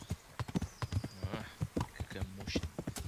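A horse's hooves clip-clop on the ground in the medieval video game Kingdom Come: Deliverance, a steady close rhythm of hoofbeats under someone talking.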